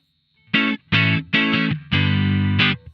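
Distorted electric guitar through a Two Notes ReVolt, with high gain and compression, playing five short chords in a choppy rhythm, the last one held longer, loud and saturated against silence.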